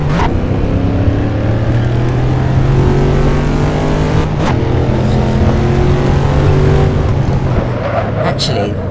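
A V8 car in the racing game Assetto Corsa pulls hard, its engine note climbing through the revs, dropping at a gear change from first to second and rising again, loud and steady throughout.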